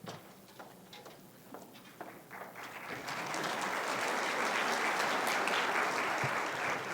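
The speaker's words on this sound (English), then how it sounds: "Please don't applaud for me." Applause from an audience at a middle school honors music festival concert, starting thin and scattered, then swelling into a loud, sustained crowd clapping that holds to the end.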